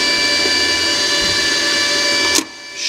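The wire feed motor of a Lidl Parkside PMSG 200 MIG welder whines steadily and strains, a loud close mechanical drone that cuts off abruptly near the end.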